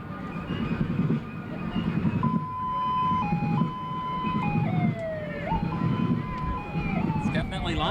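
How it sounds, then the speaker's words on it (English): Emergency sirens wail and warble steadily at a parade, shifting pitch in long sweeps, with people talking underneath and a busy street in the background. "The sirens are coming."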